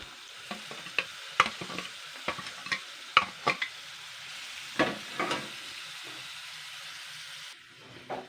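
Pointed gourd peel paste and shrimp paste fry with onion in a pan under a low, steady sizzle. Repeated scraping stir strokes come in irregular clusters.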